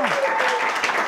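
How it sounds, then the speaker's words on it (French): A studio audience at a televised school quiz show applauds in a dense, sustained wash of clapping, with a voice speaking over it. "Applaudissements très forts."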